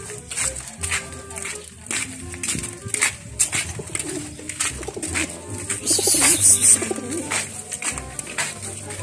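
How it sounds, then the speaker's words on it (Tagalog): Pigeons coo and call at a loft before a 5 km training toss, their soft calls scattered through the clip amid rustling and shuffling, with people talking nearby. "Mga kalapatids."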